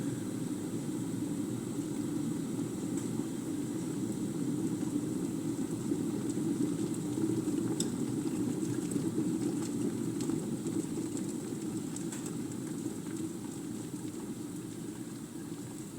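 A Sage tea maker heats water toward a boil, giving off a steady, dense low rumble and hiss that stays even and continuous throughout with no voices.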